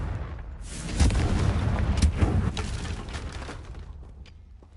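Confringo spell blasts in the video game Hogwarts Legacy, a rumbling explosive boom that swells after a second, rolls with a few heavy thuds and then fades away, with no talking.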